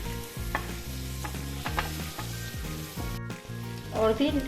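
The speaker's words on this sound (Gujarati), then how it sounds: "અને ફરી પાછું આને આપણે સાતળશું" Tomatoes and a small green chili sautéing in a pan for tawa pulao, with a steady close sizzle broken by repeated rhythmic scraping and stirring strokes, growing louder and busier near the end.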